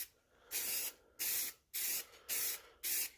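Rust-Oleum clear coat spray can on a model kit, five short bursts of loud hissing spray separated by brief pauses, close up with no talk.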